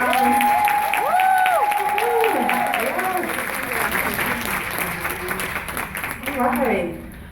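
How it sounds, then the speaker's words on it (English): An audience at a Jacksonville event claps for directors called up front, a steady wash of hand claps mixed with lively chatter and voices throughout, tapering off near the end. "let's go ahead and clap for the directors in the house"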